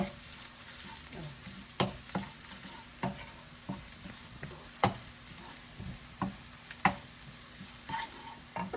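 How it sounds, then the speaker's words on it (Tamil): Raw mango and coconut sauté quietly in a pan, a low sizzle broken by regular spatula taps and scrapes recurring roughly every half second to second. "மாங்காய் கொஞ்சம் வதங்க பண்ணுங்க"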